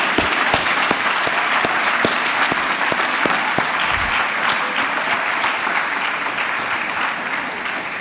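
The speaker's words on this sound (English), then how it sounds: "Everybody give Frankie another round of applause" An audience at a regional all-star sports awards gala breaks into sustained applause, loud dense clapping from a large room with a few sharp individual claps standing out near the start.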